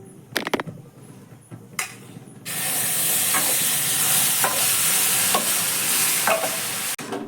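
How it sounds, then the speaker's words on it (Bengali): Raw mango pieces with spices are tipped into a hot wok and stirred. A few scraping clinks lead into a loud, continuous sizzle, with regular spatula scrapes over the hiss. "ওই কড়াইয়ের মধ্যেই কিন্তু আমি আমটা ঢেলে দেব।"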